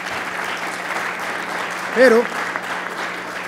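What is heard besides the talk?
audience applause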